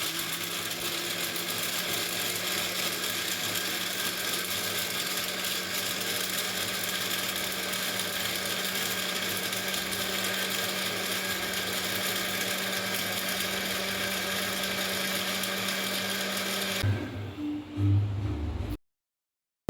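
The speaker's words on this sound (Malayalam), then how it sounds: "ഇനി നമുക്ക് ജ്യൂസറിൻ്റെ മൂടി അടച്ച് ഇതുപോലെ ജ്യൂസാക്കി എടുക്കാം" A home juicer whirs steadily as it blends fruit with cold water into a drink, one loud unbroken motor drone that holds for about seventeen seconds and then cuts out, ending in brief clatter and silence.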